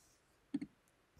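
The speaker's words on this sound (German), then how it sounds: "Hier klicken wir einfach auf Add." A computer mouse gives two quick, close clicks during setup of a browser extension, crisp and fairly near against a quiet background.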